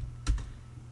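Two quick keystrokes on a computer keyboard, close and fairly faint, over a low steady hum.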